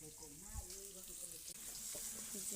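Taki fish sizzles in hot oil in a pan with fried onions and green chilies, giving a continuous frying hiss with occasional stirring. A voice talks over it.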